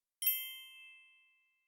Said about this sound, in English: Speak when you hear the bell.